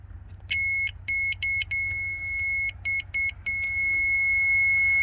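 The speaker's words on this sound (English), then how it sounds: "touch this wire here and it should make an audible alarm" A continuity tester emits repeated high-pitched electronic beeps, several short bursts in an irregular rhythm, then one long continuous tone, loud and close over a low hum, while testing wiring on a Ford F350 7.3 IDI diesel.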